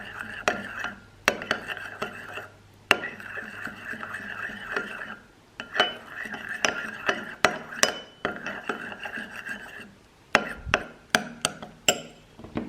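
A utensil scrapes and clinks against a bowl while stirring a two-ingredient slime mixture made without glue or boric acid, with irregular sharp taps and softer swishing strokes that pause briefly several times.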